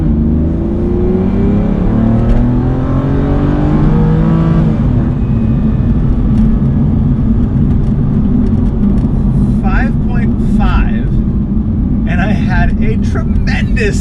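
A 2008 V12 Aston Martin launches hard from a standstill, its engine note climbing loudly and steadily as it pulls away, with some whirring and tire noise near the end.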